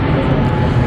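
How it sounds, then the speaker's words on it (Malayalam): An airplane passes overhead outside a convention center, a steady broadband jet-engine roar that fills the short moment at moderate loudness. "പ്ലെയിൻ."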